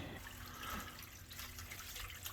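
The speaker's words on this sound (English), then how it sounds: "Right now, while we're talking, water is running through this pipe." Water rushes through a drain-waste-vent stack in a basement during a leak test of the piping, producing a faint, continuous hiss and trickle with no voices.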